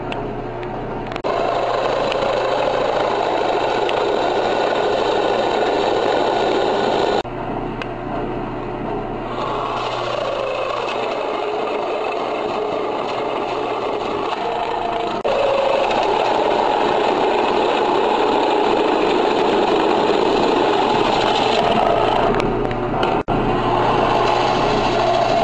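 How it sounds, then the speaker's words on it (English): A power drill bores wire holes through a junction box in bursts, a whining motor hum that starts and stops several times, loud and close, with short pauses between runs and no talking. "now that we have all our holes drilled for where our wires are going to pass out of the junction box"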